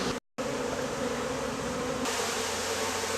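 Dense, close buzzing of many bees around a removed hive and honeycomb, a continuous swarm drone broken only by a brief dropout near the start.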